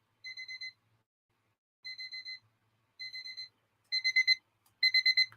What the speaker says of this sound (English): Apparently I've got an alarm.